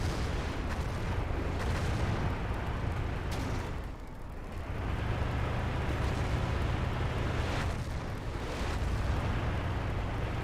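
Rockets explode one after another in the Warhammer 40K–themed Battlefield 40K game, a dense, loud barrage of blasts and booms that continues for about ten seconds, briefly dipping once before surging again.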